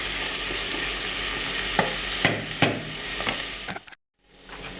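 Mushrooms cook in a pan with white wine, giving a steady broadband sizzle with several sharp stirring scrapes and clacks, then a brief cut to near silence before the sizzle resumes.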